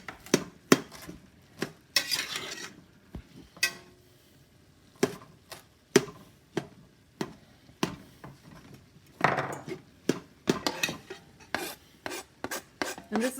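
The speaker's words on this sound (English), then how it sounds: "we can chop up this meat a little bit more" Ground meat being chopped up with a utensil in a pan of homemade spaghetti sauce before mushrooms go in: irregular sharp taps and short rasping scrapes, close and fairly quiet, with no talking.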